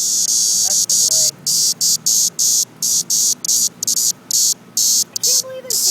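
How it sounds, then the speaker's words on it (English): A male cicada buzzes loudly and close in a pulsing drone cut by regular short breaks, the pattern repeating throughout, with faint background sounds underneath. "We got a boy here, boy cicada."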